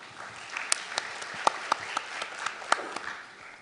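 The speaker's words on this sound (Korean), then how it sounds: "최청희 변호사님을 박수로 맞아주시기 바라겠습니다" Audience applause greeting a lawyer speaker at a hospital directors' association autumn academic conference, sparse individual claps standing out over a steady patter in a hall, moderately quiet and fairly distant.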